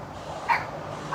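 Small dogs in a city park let out a short, faint bark or yip over a quiet outdoor background, followed by a second softer yelp near the end.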